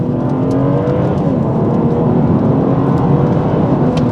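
A tuned BMW M340i with a stock gearbox accelerates hard in manual mode, its engine note sweeping up in steady rising pulls broken by very fast gear changes, loud and continuous from start to finish.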